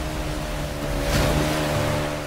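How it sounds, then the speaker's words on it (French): Jet ski skimming water in Uncharted: Drake's Fortune Remastered, a steady engine drone over loud rushing surf and spray, swelling briefly midway with no talk. "Allez mon petit jet ski, tu peux le faire."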